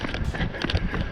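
Running footsteps on a 10 km run pound in a steady rapid rhythm close to the microphone, mixed with heavy breathing and some wind noise.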